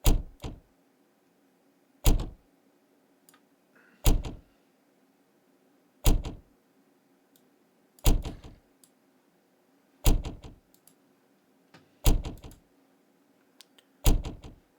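Eight sharp door thunks from a sample run through a delay plugin land in a steady rhythm about every two seconds, each followed by a fainter echo, with quiet gaps between.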